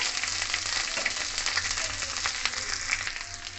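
Grated ginger frying in hot oil with tempering spices for a vegetarian kochu shaak offering, a steady loud sizzle and crackle that holds on its own without any talk.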